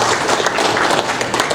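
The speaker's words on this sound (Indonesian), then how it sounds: "Boleh tepuk tangan di kesempatan malam ini." Crowd applauding at an evening send-off ceremony for special Hajj pilgrims in Makassar, a dense continuous patter of many hands clapping, loud and close throughout.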